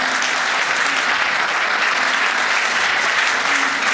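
A church congregation applauds in sustained, dense clapping that fills the space evenly from start to finish, with no breaks.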